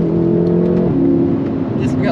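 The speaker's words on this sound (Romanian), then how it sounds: "mașina asta trebuie ascultată, trebuie condusă" A tuned 750 hp BMW M6 engine hums and revs with a strong tonal drone that dips and rises, heard under someone talking close by.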